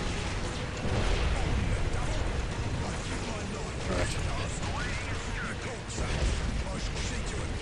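A dense, noisy battle din in the video game Dawn of War: Ultimate Apocalypse, Imperial Guard versus Orks, with repeated booming blasts and crashing rumbles layered over one another, continuous and loud.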